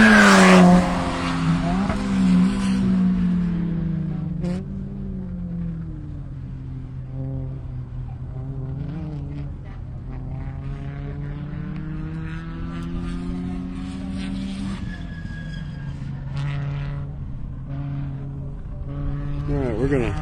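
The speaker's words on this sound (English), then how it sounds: "Camry beginning his third lap." A Toyota Camry race car laps Carolina Motorsports Park, its engine note rising and falling through the gears as it runs on track, loud and steady for the whole stretch with faint talk mixed in.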